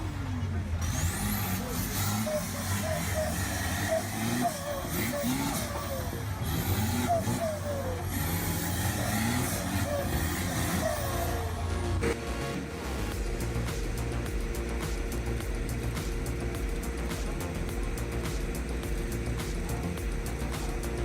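A Chevrolet Silverado off-road truck stuck in mud and a strong current revs continuously, its engine rising and falling under steady splashing and road noise, with a spoken narration running over it.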